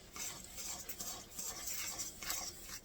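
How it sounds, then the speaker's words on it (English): Graham cracker crust ingredients are stirred together in a bowl, a quiet, close scraping and mixing sound in irregular strokes with faint clinks, no voices present. "I'm going to mix it all together."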